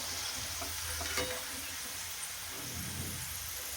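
Chickpea and mung dal frying in hot oil while being scooped out, a steady close sizzle and hiss with faint scraping of the ladle, no speech.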